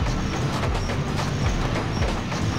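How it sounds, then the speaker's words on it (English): Ghost train ride in the Pumpkin Hill stage of the video game Sonic Adventure 2 Battle: a steady, loud rolling rumble with rhythmic clattering wheel beats that continues without a break. "Ghost train mounting, glide towards the blue."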